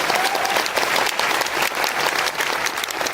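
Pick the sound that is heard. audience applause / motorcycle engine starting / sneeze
audience applause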